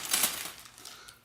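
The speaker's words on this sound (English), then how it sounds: "I'll take the forks and place them inside of the plastic bag carefully." Four metal forks clink softly as they are placed inside a plastic bag, a brief cluster of light metallic chinks mixed with crinkly rustle, close and quiet, fading out after a moment.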